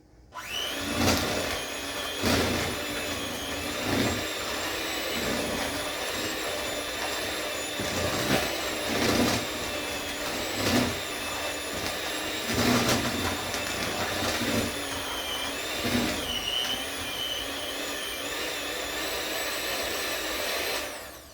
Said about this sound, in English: I am going to take my hand mixer and mix it the rest of the way in.